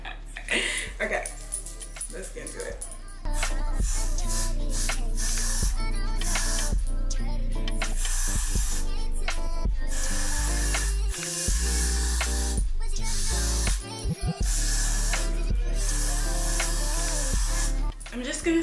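Hair spray misted over a lace front wig during an at-home install, loud continuous hissy spray bursts layered with music.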